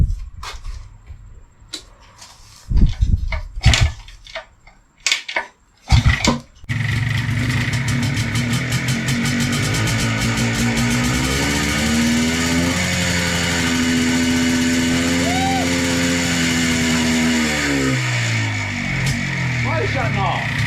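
An MZ TS 250 two-stroke motorcycle is kicked and cranked in several loud bursts, then catches and runs steadily with a buzzing, rattling idle and a brief rev, close by, with people talking over it.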